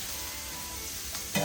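Boneless pork ribs sizzle steadily in a frying pan, with a brief clatter near the end as a piece is flipped.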